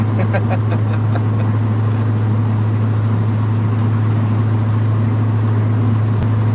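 A car fitted with a custom dual exhaust idles and rumbles loudly and steadily, a deep constant engine drone close by, heard during a Saturday night cruise in Chehalis and Centralia, Washington.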